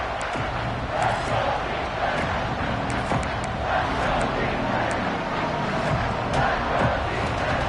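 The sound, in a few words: stadium crowd noise in a video game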